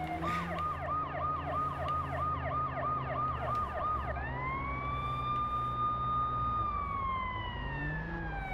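An ambulance siren in the video game Watch Dogs wails steadily and loudly, first in a fast rapid yelp pattern, then switching to a long drawn-out rising and falling wail, with no talking.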